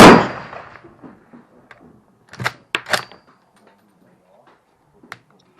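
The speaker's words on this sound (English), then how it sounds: "going to take just a couple of more shots, and then we'll tip down and take a look at the target" An L1A1 rifle fired at a 300-meter range: a loud, sharp shot opens with a long ringing decay, followed by a cluster of quieter cracks or impacts and one more brief report near the end.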